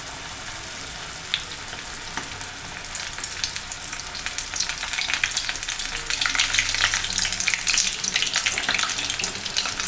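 Chicken lollipop pieces fry in hot oil with a dense, crackling bubbling that builds louder toward the end and continues without any talk over it.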